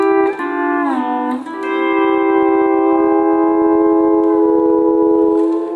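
A pedal steel guitar sounds a sustained augmented chord voicing on three strings, with pedals and a knee lever bending notes upward at the start, then ringing as a loud, clean, reverberant chord alone.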